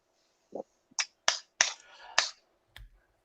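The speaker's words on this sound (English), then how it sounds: "I hear someone clapping." A handful of sharp, isolated claps or snaps from one person, close and fairly quiet, spaced irregularly with short gaps of silence between them.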